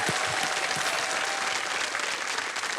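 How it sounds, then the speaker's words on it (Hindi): Dense, steady studio audience applause on a televised quiz show, welcoming a contestant, filling the whole stretch at an even level with no talk over it. "तालियों के साथ मैं चाहूंगा कि इनका स्वागत करिए।"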